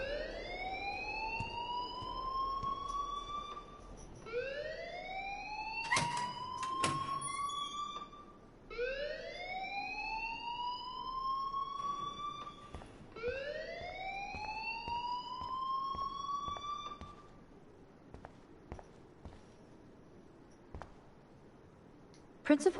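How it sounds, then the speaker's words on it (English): An alarm rings inside a video game, a loud wailing siren with four rising sweeps that repeat about every four seconds before cutting off, leaving faint clicks and quiet background. "please turn off that alarm since that's your job."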